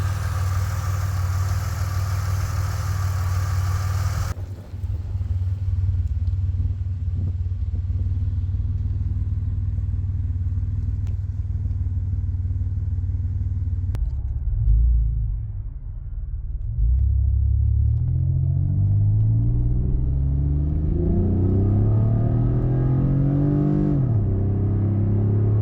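A Pontiac Grand Am engine fitted with DIY ported heads runs steadily at idle with a low, even rumble, then revs up and settles back in smooth rising and falling sweeps, heard close with no voices.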